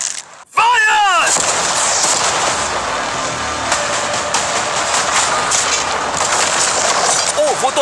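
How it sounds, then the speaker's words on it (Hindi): Cannons firing at a new yacht: after a short silence a loud, sustained roaring blast and rumbling boom dominate, with people shouting over the noise. "अब हम तुम्हारी नई यॉट पर कैनन्स को शूट करने वाले हैं"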